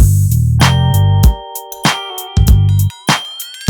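A sampled guitar library line plays in a remake of the GTA San Andreas theme, short bent notes riding over a heavy drum and bass groove, loud and upfront with no talking.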